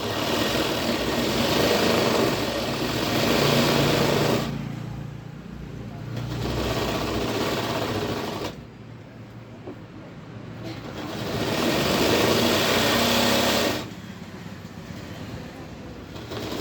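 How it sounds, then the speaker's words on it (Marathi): Sewing machine stitching shirt fabric along a marked line during a shirt alteration, a steady mechanical whir running in several bursts with short pauses between runs, close and fairly loud. "दुसऱ्या बाजूने बी त्याच पद्धतीने मार्किंगवरती आपल्याला शिलाई मारून घ्यायची."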